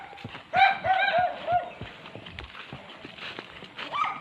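A horse neighs loudly, then hooves clop at a slow walk alongside faint background voices.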